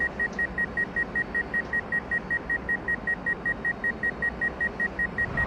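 A rapid, steady series of electronic missile warning beeps in the jet fighter game Jetfighter V: Homeland Protector repeats without pause over a dense rumbling engine drone.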